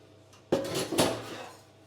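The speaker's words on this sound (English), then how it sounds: "I'm just going to continue to whisk that together until it thickens" A whisk works milk into a roux in a pan, with two close scraping, clattering strokes against the metal that fade out afterwards.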